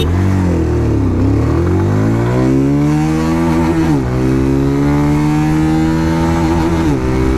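A BS6 OBD2 motorcycle engine revs hard in first gear during an acceleration run on a road. Loud, close revs climb in pitch, briefly drop at a gear change, then rise and drone steadily again.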